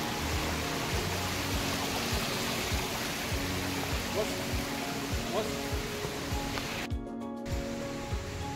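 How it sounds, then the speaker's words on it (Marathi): A strong, fast-flowing stream near Karnala Fort and bird sanctuary rushes loudly and steadily, a constant broadband roar with brief low thumps and a short dropout near the end, and a voice faintly audible beneath. "या ठिकाणी पाण्याचा जोर जास्त आहे, खूप पाऊस असेल तर या ठिकाणी वांदे होऊ शकतात."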